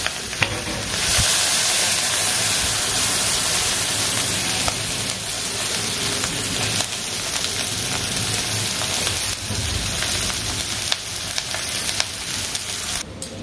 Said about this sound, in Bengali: ফ্রাই তো হয়ে গেছে, এবার এখানে আমি রাইসটাকে দিয়ে দেবো।